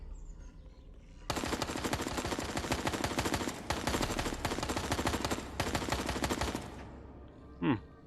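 Sustained automatic gunfire in the survival game Fear the Night, three long rapid bursts close and loud with brief gaps between them, then a short tonal blip after the shooting stops.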